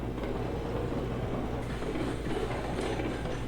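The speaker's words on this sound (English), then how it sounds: "it's an empty train, so it doesn't take that much to get us up the hill" An empty train climbing a hill in the Railroads Online railway game, a continuous dense rumble of wheels and engine that stays loud and steady throughout, with no talking.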